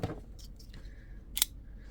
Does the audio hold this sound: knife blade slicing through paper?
yes